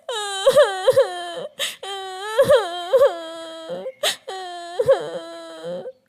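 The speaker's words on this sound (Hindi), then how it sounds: "उसके कानों में बच्चे के रोने की आवाजें आ रही थीं" A young child cries in repeated sobbing wails, high and close, broken by sharp gasping breaths between bursts.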